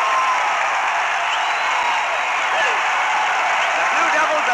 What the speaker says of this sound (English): Listen to this crowd roar.